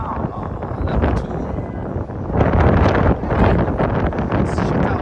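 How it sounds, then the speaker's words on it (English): Strong winter wind buffets the microphone on level 2 of the Eiffel Tower in Paris in December, a loud, continuous broadband roar that surges and grows stronger about halfway through. "Super windy day."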